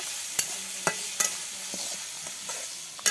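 Dried shrimp and dried sea fish fry with spices in a pan, a quiet steady sizzle broken by several sharp scraping clicks of a spatula stirring at irregular intervals, with no talking.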